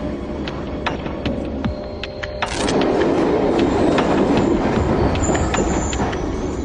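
A passenger train rides the rails with a steady clickety-clack rumble and occasional metallic squeals, growing louder and rougher partway through as it gathers pace.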